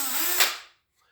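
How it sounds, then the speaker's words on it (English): A power drill whirs briefly in a metalworking shop, a single short burst that spins up, peaks and cuts off within a second, leaving near silence after. "the drill."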